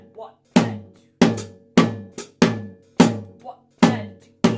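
Drum groove with the left hand on the high tom and hi-hat on the offbeat ands, played solo: sharp, loud tom hits in a steady even pattern with lighter hi-hat ticks between, crisp and close, no talking.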